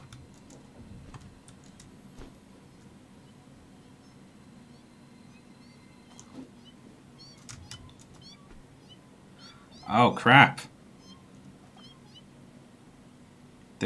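In Satisfactory with arachnophobia mode turned on, a big spider creature gives out a pair of loud, close cat meows, breaking through quiet ambience and scattered keyboard clicks, while someone speaks briefly.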